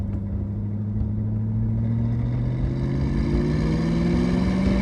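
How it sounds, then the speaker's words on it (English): A steady, rising whine from the supercharged engine of a 2003 Ford SVT Cobra sits over a deep rumble, climbing gradually in pitch as the car accelerates. "that's the most iconic thing with these SVT Cobras is going to be that supercharger whine"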